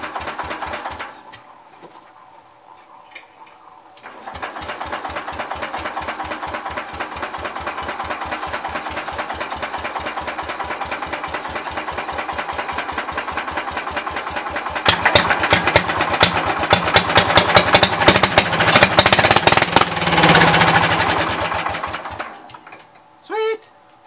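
An old Cub engine cranks over for a few seconds, then catches and runs steadily with a rapid mechanical chatter, the throttle wide open and growing louder and harsher near the end before cutting off.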